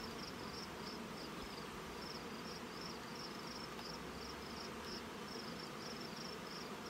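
Inside an open honey bee hive packed with brood, a faint dense buzz of many bees hums continuously, with a higher pulsing insect chirp repeating steadily above it.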